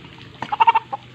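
A sick chicken with a respiratory throat illness gives a short burst of about five clucking, raspy calls, close and fairly loud over a quiet background.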